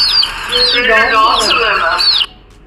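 Pet birds kept at a home in Rajahmundry chirp in a busy, overlapping chorus of high, repeated tweets, close and fairly loud, then stop abruptly near the end.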